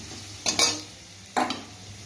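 Chopped garlic tossed into a hot pan while cooking jute leaves, giving two short bursts of sizzle and stirring scrapes over a quiet background.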